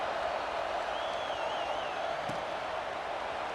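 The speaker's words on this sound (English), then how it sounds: "this crowd is buzzing after that last score" A stadium crowd in the EA Sports College Football 26 video game keeps up a steady, dense roar after a score, with faint whistling tones above it.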